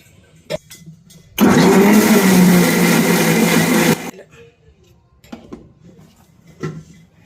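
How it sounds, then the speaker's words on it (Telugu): A mixer grinder blends spinach with a little water, giving a loud, close grinding whir that starts abruptly, runs for about three seconds and cuts off, with faint kitchen knocks before and after. "దీన్ని మిక్సీ పట్టుకోవాలి"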